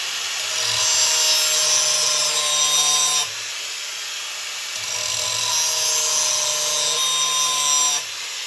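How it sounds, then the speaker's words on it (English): Electric grinder sharpening the edge of a Kubota TG1860G mower blade: two long, loud abrasive passes with a high metallic whine, separated by a brief drop to the motor's idle running. "running the grinder that way it really creates a fine edge at the tip"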